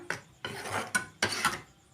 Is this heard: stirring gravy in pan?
yes